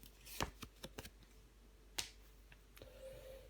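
Tarot cards being shuffled and set down on a table, heard as a few quick, crisp flicks and taps spread over a few seconds, close and quiet in a hushed room.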